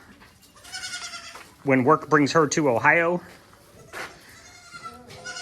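Baby goats bleat close by on an Ohio farm, a run of loud wavering cries in the middle, with someone talking before and after.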